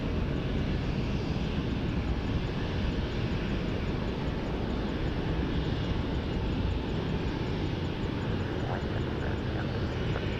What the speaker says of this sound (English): Two heavies on approach.